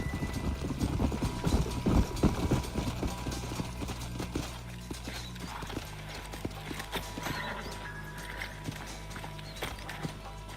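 Steady clip-clop of horse hooves in Red Dead Redemption over a busy outdoor game soundscape, louder at first and then settling into a softer, continuous trot.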